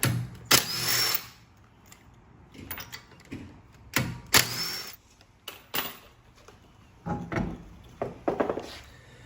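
A power tool zips in short bursts while wheels come off both sides of a Fiat 124 Spider Abarth with a 21mm socket, several sharp whirring spurts separated by quieter clanks and handling noise nearby.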